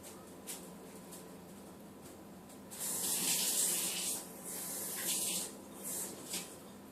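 Kitchen tap running water to rinse measuring spoons, a faint hiss first, then a louder splashing gush in bursts as the spoons pass under the stream, close and without talk.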